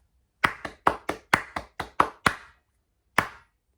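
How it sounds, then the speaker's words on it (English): Hands clap a crisp rhythm for dictation practice, eight quick claps in an uneven pattern followed by a pause and one final clap, close and clear in a quiet room. "I'm going to clap it again for you."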